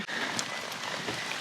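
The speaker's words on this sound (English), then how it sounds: "I just have to brave going outside where it's raining and wet and cold" Cold, wet rain falling outside, a close, steady patter of drops on surfaces with a few louder individual splats, heard alone without talk.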